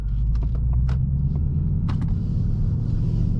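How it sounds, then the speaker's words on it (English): A 2023 Ford Mustang Mach 1 with a 5-liter V8 and Tremec 6-speed manual drives along, its engine a deep, steady rumble heard from inside the car, with a few faint clicks and knocks over the drone. "We're going to do a quick little drive and see what this Mustang Mach 1's all about."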